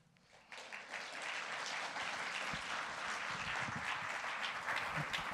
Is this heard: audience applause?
yes